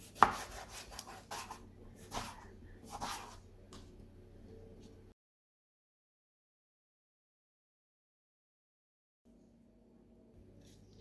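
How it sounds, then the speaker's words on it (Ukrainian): A knife chops boiled eggplant into medium pieces on a board, a quick run of close, sharp cuts for about five seconds, then silence and a faint low rumble. "Нарізаємо на середні шматочки, дрібнити сильно не потрібно."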